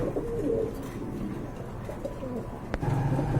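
Pigeons coo softly and intermittently in a loft, low murmuring calls overlapping against a steady background hum, with a brief sharp click near the end.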